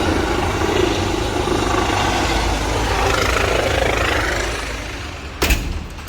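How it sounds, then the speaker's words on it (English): A helicopter hovers close overhead near a road corner, its loud steady rotor and engine roar filling the scene continuously, easing slightly before a brief sharp knock near the end. "This helicopter is right on top of us."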